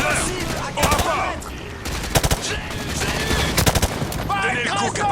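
Gunfire from the video game Call of Duty Modern Warfare 2 Remastered: several rapid automatic bursts and single shots, loud and close, with voices calling out between them.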